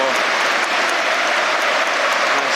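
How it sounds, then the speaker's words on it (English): Steady applause from a large football stadium crowd at Anfield during a Liverpool versus Manchester United match, a dense, continuous wash of clapping that fills the whole stretch with faint voices mixed in. "there is applause all around Anfield"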